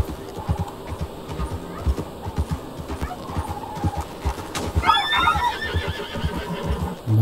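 A horse whinnies loudly in Red Dead Redemption 2, the neigh rising over rough outdoor noise and dull thumping movement, with a second, shriller whinny near the end.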